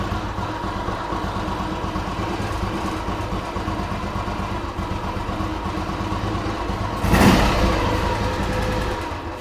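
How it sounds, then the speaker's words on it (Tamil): A 2009 Royal Enfield motorcycle idles steadily up close, its single-cylinder thump running evenly throughout, with a brief louder burst near the end. "இன்ஜின் கேட்டுக்கோங்க, இன்ஜினோட சவுண்டு."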